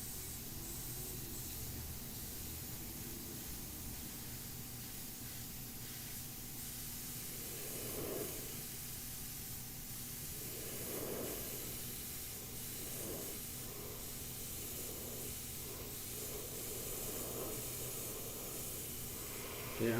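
An airbrush sprays white paint in a steady, continuous hiss that runs close and even throughout, with a few brief louder bursts along the way.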